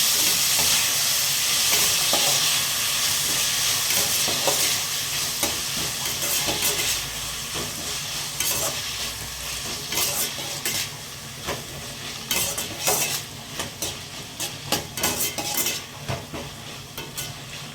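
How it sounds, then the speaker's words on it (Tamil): Onion and tomato sautéing in a pan for pattani kurma, a loud continuous sizzle and hiss with frequent scraping and stirring clatter that grows more broken toward the end. "வதக்கி விட்டுக்குங்க. அது கூட வெங்காயம் சேர்த்துக்கலாம். தக்காளி சேர்த்துக்கலாம்."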